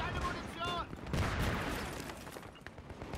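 USAS-12 shotgun in the Battlefield 3 multiplayer game, a few rapid booming shots blended into a noisy mix of other gunfire while a voice talks over the action.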